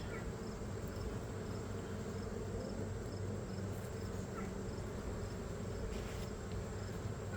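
A low, steady hum of many honey bees buzzing close by at an open hive, a dense continuous drone with no talk.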